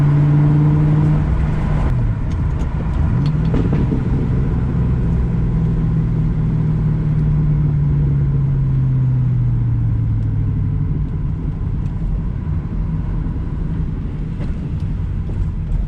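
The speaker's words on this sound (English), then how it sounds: "Backfires were so nice on that last downshift." Audi S5 engine heard from inside while cruising: a loud, steady rumble with pitch climbing and falling through revs and downshifts, plus faint pops that could be backfires, under constant road noise.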